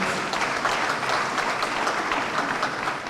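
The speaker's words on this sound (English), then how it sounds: "Can somebody give him a round of applause?" Sustained applause from a crowd of dignitaries and PDP leaders at a gathering honouring Pa Edwin Clark, a steady dense clapping wash that stays loud and even throughout with no voices rising above it.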